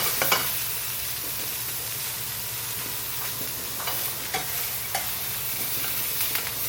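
Steak sizzles steadily in a pan with rosemary and garlic butter, a continuous close hiss of frying broken by small pops and a few light scraping stirs, with no talking.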